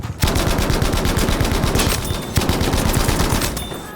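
A machine gun in Battlefield V rattles off rapid, sustained automatic fire in two long bursts, with only a brief gap between them. The shots are loud and close, and no voice is heard.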